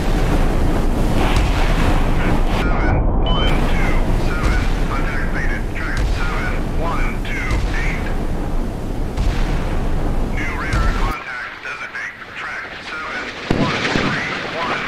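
Naval guns and missiles fire from a warship at sea in Sea Power, set in the Strait of Hormuz, heard as a heavy, continuous roar with wind and surf noise for most of the clip before it drops away sharply near the end.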